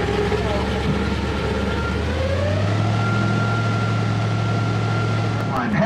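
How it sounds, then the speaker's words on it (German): Airboat engines at an aqua safari ride in Serengeti-Park start up, a low droning rumble rising and settling into a steady loud hum, with a voice speaking over it. "dann starten wir die Motoren"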